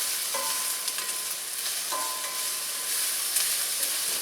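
Chili pepper flakes fry in a hot wok, giving a steady, even sizzle with faint stirring scrapes and no voices.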